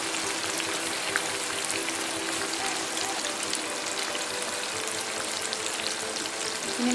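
Okra frying in a generous amount of oil for dhaba-style masala bhendi gives a steady, dense sizzle and crackle that holds evenly throughout, close by with no talking.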